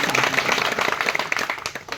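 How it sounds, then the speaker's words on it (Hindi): A crowd at an election rally claps in a brief, uneven burst of applause, with sharp individual claps standing out near the end. "जोरदार ताली"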